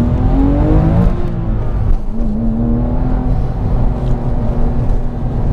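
A Porsche 997 GT3 Mk2 with a manual gearbox revs hard under acceleration on open roads. The engine is loud and close, its pitch climbing and then dropping between gears.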